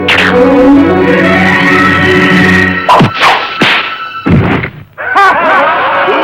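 Arrows striking an archery target during a medieval archery contest: after a sustained musical passage, a few loud, sharp thwacks land close together, separated by brief gaps.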